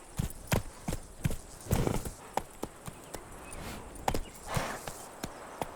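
Roach, the Witcher 3 horse, clip-clops along in a steady rhythm of close, crisp hoof strikes, with an occasional whinny-like snort and no talk.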